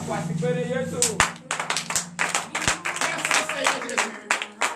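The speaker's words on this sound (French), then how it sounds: "Veuillez vous lever, donner de vive acclamation à notre Seigneur Jésus" A standing congregation at a morning prayer service in Benin claps and cheers in acclamation, sharp rhythmic hand claps over loud singing and shouting voices with a sustained musical tone underneath.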